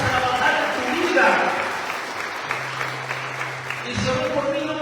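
A church congregation applauds in a dense, steady wash of clapping that builds and then fades. Voices and a low sustained tone mix in underneath.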